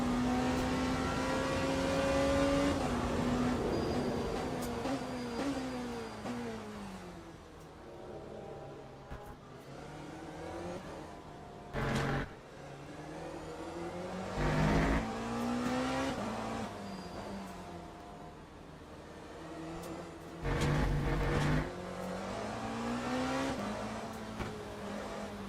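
Porsche race car engine in Le Mans Ultimate, racing at Fuji, revving through rising and falling gear changes, loud and continuous with brief sharp bursts and downshifts.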